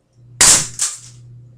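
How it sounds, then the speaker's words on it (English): A spring airsoft gun's mechanism is pulled back to compress the spring, giving two sharp, close mechanical clacks a moment apart over a low steady hum. "pull the mechanism back, which tightens up the spring and allows them so you can project the BB"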